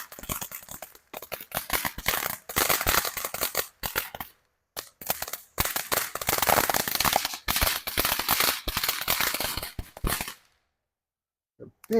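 A big crackling backyard consumer firework sends out a long, loud stream of dense popping and sizzling bursts with brief gaps, then cuts off abruptly near the end.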